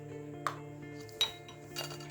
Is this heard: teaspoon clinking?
yes